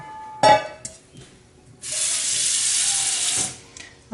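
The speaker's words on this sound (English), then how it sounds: "So I put a bit of water in there to start with so that the dough doesn't stick to the bottom of it" Tap water runs into a bowl holding washed-flour gluten dough for seitan, a steady close splash lasting a couple of seconds after a few brief clanks and handling noises.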